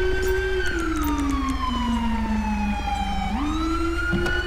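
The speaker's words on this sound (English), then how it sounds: "Can you stop running your siren 3 feet from my eardrum, please?" A police siren in the GTA V LSPDFR mod wails loud and close, its tone sliding slowly downward then jumping back up in a long, continuous sweep.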